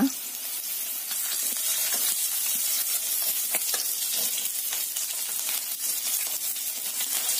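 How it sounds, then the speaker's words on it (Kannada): Green chillies deep frying in hot oil, a steady dense sizzle with fine crackles and pops running continuously at close range with no voices. "ಹಸಿಮೆಣ್ಸಿನ್ಕಾಯಿನ ಫ್ರೈ ಮಾಡ್ಕೊಳ್ಳೋಣ ಕ್ಲೀನಾಗಿ ಡೀಪ್ ಫ್ರೈ ಮಾಡ್ಕೊಳ್ಳಿ"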